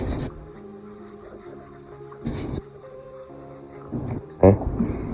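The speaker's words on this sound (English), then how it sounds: "just got the last final sand on this base" Sandpaper rubs along the edges of a wooden base for basketball drill stands, in close, rasping strokes that come in short bursts with pauses between them.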